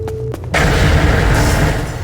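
An explosion in the video game Manamon: a brief quieter opening gives way to a sudden, loud, sustained roaring blast that fills the rest of the moment.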